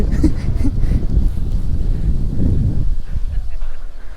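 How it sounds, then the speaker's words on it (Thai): Strong wind buffeting the microphone outdoors at a hillside sheep farm, a steady low rumbling roar that fills the whole clip, with faint sounds of people in the background. "ดูลมแรงไหม"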